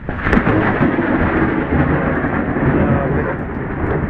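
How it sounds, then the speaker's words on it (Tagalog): Heavy thunder rolls continuously through a rainstorm, loud and close, a broad rumbling wash with a sharper crack near the start and steady rain underneath. "Lakas ng kidlat."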